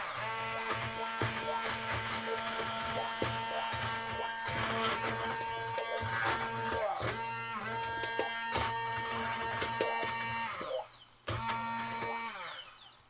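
A hand blender whirs through béchamel sauce for lasagna, giving a loud steady motor buzz close by that shifts in pitch and briefly cuts out near the end before starting again.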